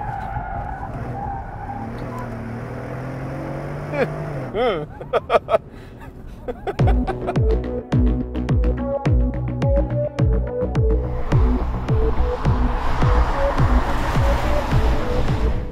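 A 2013 Mercedes-Benz SL550 roadster being driven hard, its engine revving and rising in pitch, then loud tire squeal and skidding as the car corners aggressively, close and loud with no speech over it.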